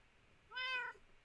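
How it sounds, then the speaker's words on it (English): A single clear cat meow from a video game, rising and falling over about half a second, close and distinct against a quiet background. "Oh, these cats are awesome"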